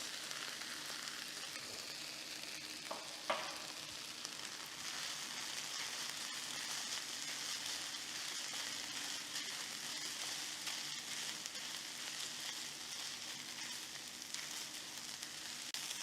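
Cooked rice being stirred into Chinese-style fried rice in a hot pan, a faint, even sizzle that holds steady throughout with a few soft scrapes.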